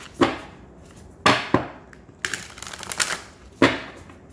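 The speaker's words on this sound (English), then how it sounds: "Let's get a good shuffle." Cards are riffled and snapped together in several short, crisp bursts with pauses between, close by and with no talking.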